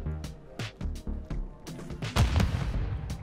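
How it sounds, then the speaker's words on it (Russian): Sniper rifle shots and heavy gunfire in Call of Duty DMZ, several sharp booming cracks spaced irregularly, with a louder burst near the end over low rumbling. "я слышал, как будто выстрелил снайпер"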